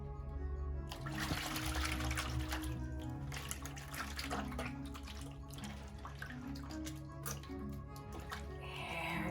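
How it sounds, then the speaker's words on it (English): Tap water running steadily as sticky, smelly mustard is rinsed off in a soap demonstration, a continuous close wash of flowing water with small splashing changes throughout. "let me try first just rinsing it with water"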